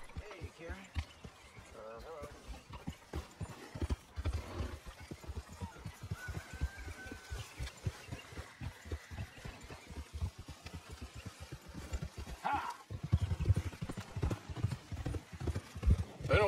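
Horse hooves clip-clop steadily while riding in Red Dead Redemption 2, a rhythmic close trot running throughout with a voice talking over it for much of the time.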